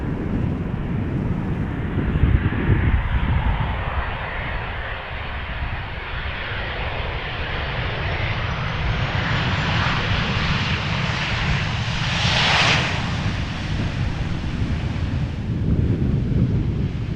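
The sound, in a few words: Boeing 737-800 arriving at Amsterdam Schiphol Airport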